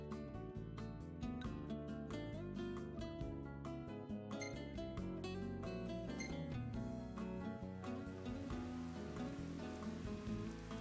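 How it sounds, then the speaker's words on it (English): Steady rain falls in the video game Final Fantasy XV, a constant hiss running for the whole stretch beneath loud, busy game music. "So sad when there's rain."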